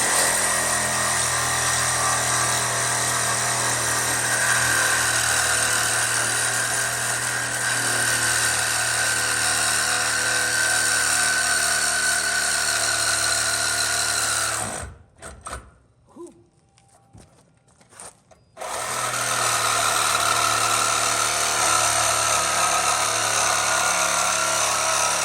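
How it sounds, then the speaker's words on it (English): A Sawzall reciprocating saw with a metal blade cuts through the door hinge of a 1977 El Camino with a loud, sustained buzzing roar, stopping for a few seconds midway before starting again, close by. "Then my last Sawzall blade for metal, so cross your fingers and pray to Santa that it works."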